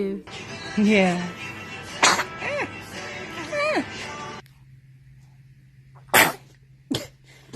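A baby sneezes a couple of times, sharp short bursts between high babbling vocal sounds, with an adult voice heard nearby.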